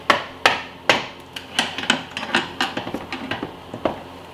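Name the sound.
screwdriver prying off a brake line clip on a Chevy Tahoe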